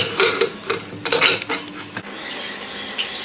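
Metal cooking pot holding mutton stew, its lid clattering and scraping into place with a few quick metallic clinks, then a sharp knock as it settles, followed by soft background hiss.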